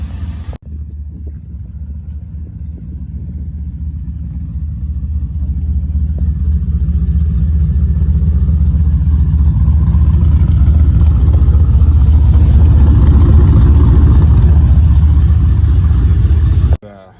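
LS-swapped Datsun 240Z idling, a deep steady rumble that starts abruptly, swells a little louder over the first several seconds, then holds an even, close throb before cutting off sharply.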